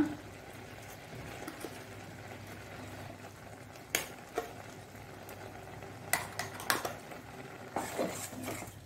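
A spoon stirs masala into a pot of knotted colocasia leaf gravy, giving a few sharp metallic scrapes and clinks against the pot over a low simmering background, with no talking.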